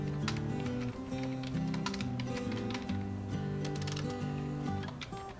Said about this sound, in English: so I type my channel name